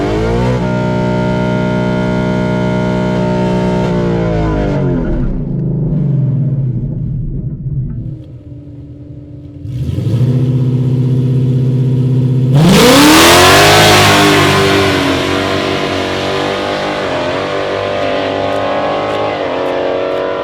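A bracket drag racing car at the strip revs hard, drops to a low idle, then roars off in a loud rising acceleration that fades slightly as it pulls away.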